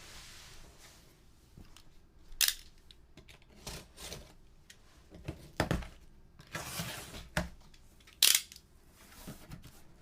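A big cardboard shipping box being opened indoors, with scattered rustles, scrapes and a few sharp tearing bursts spread over several seconds, fairly quiet overall with no talk.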